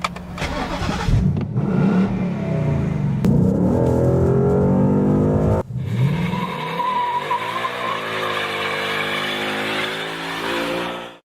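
A 2017 Chevrolet Corvette Grand Sport with a 460-horsepower small-block V8 revs hard and loud, with engine pitch sweeping up and down through repeated throttle blips and a brief tire squeal. It cuts off sharply at about 5.5 seconds, then the engine rises again in a steady acceleration.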